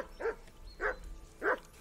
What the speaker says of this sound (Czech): zavolej si toho psa, než nám sežere poslední maso.